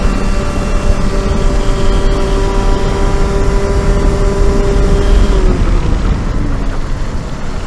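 A Rotax 125 kart engine laboring as it bogs down on an uphill climb, a loud steady drone with a sustained tone that drops in pitch near the end, close and continuous with wind rush.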